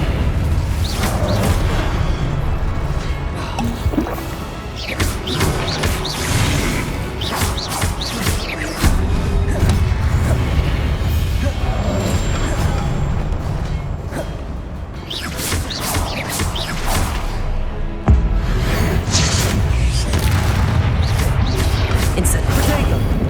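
Incendio fire spells in Hogwarts Legacy burst out again and again, loud whooshing blasts at an uneven pace over busy combat noise, with a voice repeatedly shouting the spell's name.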